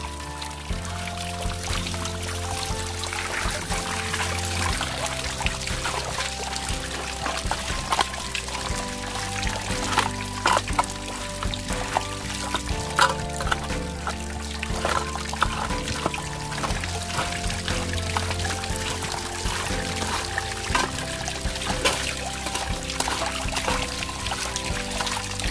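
Water poured out in a steady, continuous stream after a yard was raked clean in a forest clearing, a loud liquid splash running throughout with no talk over it.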